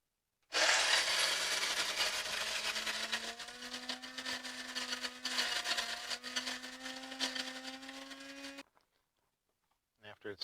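A kitchen grain mill or blender grinds oats, whole grain and rye berries, a loud steady whirring grind with a rising motor tone that runs continuously for about eight seconds and then cuts off abruptly.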